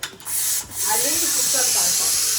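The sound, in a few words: pressure cooker releasing steam with a hissing whistle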